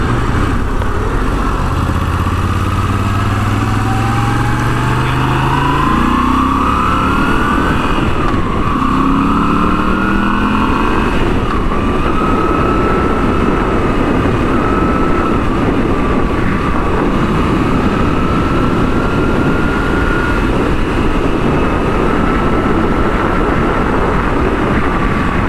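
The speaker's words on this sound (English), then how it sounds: "It is so nice and nimble. It's so much fun to ride it." A Moto Guzzi V7 Stone motorcycle engine droning steadily while riding on the road, with pitch rising and falling through gear changes under constant loud wind rush.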